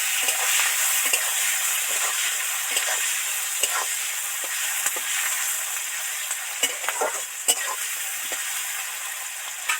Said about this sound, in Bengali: পেঁয়াজগুলো যাতে তাড়াতাড়ি সফট সফট হয়ে ভাজা হয়ে যায়